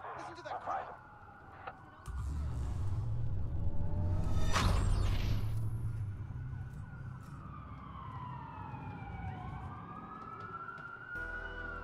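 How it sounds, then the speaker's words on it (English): Sirens wail through the streets in the Watch Dogs video game during a city blackout, rising and falling tones over a steady low traffic rumble, fairly loud and continuous with a brief voice early on. "That's a lot of sirens for a blackout."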